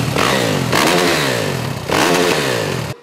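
A motocross motorcycle engine revs hard in repeated loud bursts, rising and falling close by with a rough, clattering tone and no talk.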